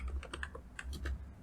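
Quick keystrokes on a computer keyboard, a short burst of about eight close, crisp clicks in an uneven rhythm, as a key combination and Enter are pressed in a Windows setup, with no talking.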